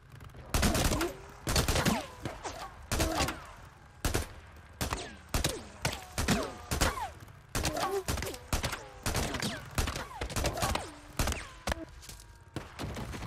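Rapid bursts of gunfire from the Days Gone video game crack out repeatedly, loud and close, scattered across the whole stretch with short gaps, while someone talks in between.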